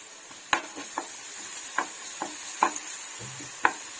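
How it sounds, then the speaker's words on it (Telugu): Ground garlic frying in two spoons of oil in a pan, a soft steady sizzle with a handful of sharp spoon scrapes and taps against the pan at irregular intervals, close and fairly quiet, with no talking. "ఒక ప్యాన్లో టూ స్పూన్స్ ఆయిల్ వేసుకొని మనం మిక్సీ పట్టుకున్న వెల్లుల్లిని వేయించుకోండి"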